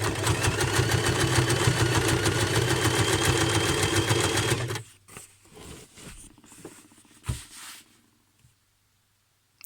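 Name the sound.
sewing machine stitching fabric from old trousers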